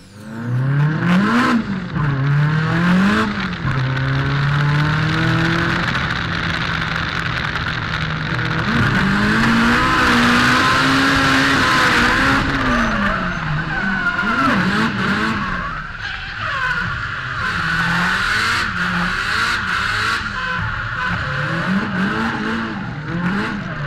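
A drift car laps a race track at the first round of the 2012 Australian Drifting Grand Prix, its engine revving hard and loud throughout with rising and falling pitch, tire squeal and skidding mixed in, heard from close by.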